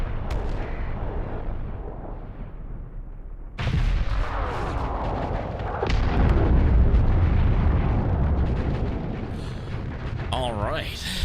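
Missile explosions from the space combat game Starsector: a sustained roar of booming blasts that swells after a sharp onset, with a voice talking over it throughout.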